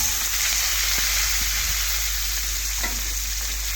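Small carp frying in a pan of hot oil, a steady close broadband sizzle with faint scattered pops and a light clink near the end, no voices.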